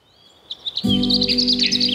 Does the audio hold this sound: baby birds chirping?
yes